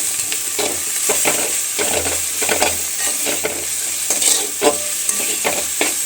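Colocasia leaves being stirred and fried in a pan for a potato curry, with a steady high sizzle and repeated scraping strokes of a spoon every second or so, close and fairly loud, no talking.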